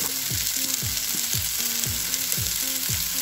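Onions and tomatoes sautéing in a pan, a steady loud sizzle with rhythmic scraping stir strokes repeating roughly twice per second, no voices.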